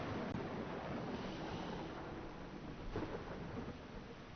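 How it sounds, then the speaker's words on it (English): Rain pours steadily in a medieval-building video game, a dense broadband wash with low rumbling thunder swelling faintly underneath, no voices. "let me get rid of this rain real quick"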